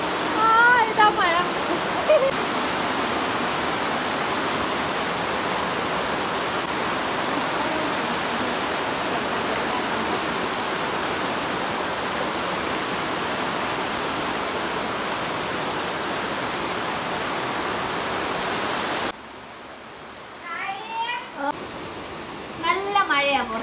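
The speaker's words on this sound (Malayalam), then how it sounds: "നല്ല മഴയാണ് പുറത്ത്." Heavy rain pours down outside in a steady, dense broadband hiss that holds for most of the stretch, then drops off sharply near the end while a voice and chatter come through.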